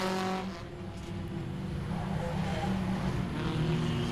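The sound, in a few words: race cars racing at Langley Speedway enduro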